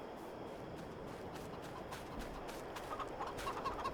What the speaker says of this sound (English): Just over here checking on the chickens before we call it an evening.